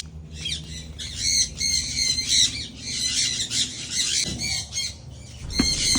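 Indian ringneck parrots squawk loudly in a flight cage, a dense run of harsh, repeated shrieks that overlap almost continuously with only brief pauses.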